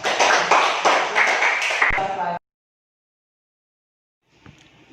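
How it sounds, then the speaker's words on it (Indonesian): A classroom audience claps after a student presentation: a dense burst of many hands that lasts about two seconds, then cuts off abruptly, followed by near silence and a faint rustle. "Oke, tepuk tangan dulu kan."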